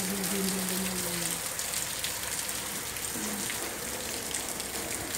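Steady rain in Saudi Arabia patters continuously on a surface, a dense hiss close by, with faint low voices briefly under it.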